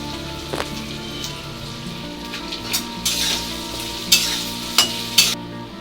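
Cashews and raisins fry in a hot pan for a Janmashtami recipe, a steady close sizzle with a few sharp scraping stirs breaking through toward the end.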